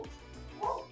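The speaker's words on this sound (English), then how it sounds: "my dog be tripping sometimes." A dog gives a couple of short, high yips and barks in quick succession, fairly faint and close-miked indoors.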